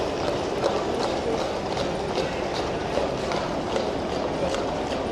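Horses of the Blues and Royals clopping along a street at a ceremonial state occasion, a steady stream of hooves from many mounts with crowd noise behind.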